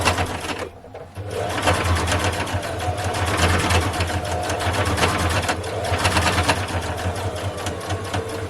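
A sewing machine runs steadily, stitching a fabric face mask, with a loud continuous motor hum and a brief pause near the start before the stitching resumes.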